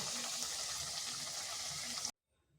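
Flattened rice (poha) snacks frying in oil in a pan, a steady close crackling sizzle that runs unbroken and then cuts off abruptly into silence.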